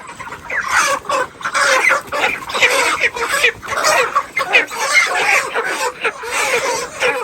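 Many chickens cluck and squawk together close up as they are caught by the legs, a busy, continuous chorus of rising and falling calls.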